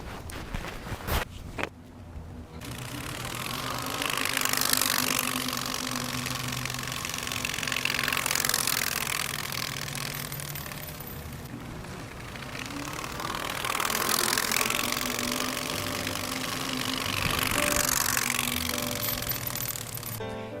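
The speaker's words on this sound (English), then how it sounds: "On my bicycle, I've done what we did when we were kids. I put some playing cards with clothespins in there, pretending like we're a motorcycle." Playing cards clipped to a bicycle frame with clothespins flap against the spokes, making a continuous rapid motor-like buzz that swells and fades as the bike rides past, after a few knocks at the start.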